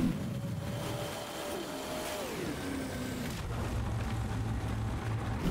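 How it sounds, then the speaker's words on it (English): Engine of a Begleitpanzer 57mm tank in War Thunder, a steady droning rumble with shifting pitch as it revs and settles, heard continuously with no talk. "He knows I'm here because he hears my engine"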